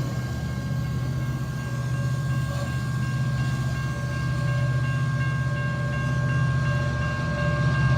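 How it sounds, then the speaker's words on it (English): Loaded northbound coal train on the Paducah and Louisville Railway rumbling past steadily, a continuous heavy low drone with faint wheel whine, no voices. "there goes our northbound loaded coal train with the Illinois Terminal Heritage Unit as the trailing DPU"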